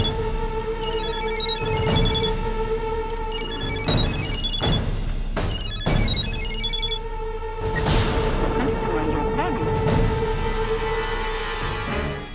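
A telephone rings through a Tamil TV drama scene, a steady repeating ring with a sustained tone running throughout, punctuated by several sharp bangs or hits, loud and close over about twelve seconds.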